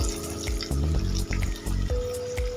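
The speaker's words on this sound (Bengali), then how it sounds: "মিক্সি জারটা ধুয়ে সামান্য পরিমাণে জল দিয়ে দিলাম" Water runs from a tap into a mixer jar as it is rinsed and poured into a pan of fried broad beans for a Bengali niramish sim dish, a close, steady splashing stream with some clatter, no talk.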